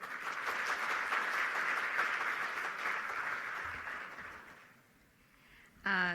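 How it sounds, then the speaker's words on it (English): A conference audience applauds steadily for several seconds, the clapping fading out toward the end before a voice begins. "Please give her a big round of applause."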